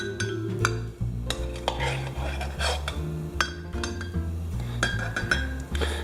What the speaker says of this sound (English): Take your spoon, just dollop some foam on there.